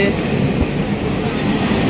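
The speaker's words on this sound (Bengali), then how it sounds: "দেখো ট্রেন চলে এসছে" A Barrackpore local train rolls into the station with a loud, continuous rumble and rattle of wheels on track, a low steady roar filling the whole moment.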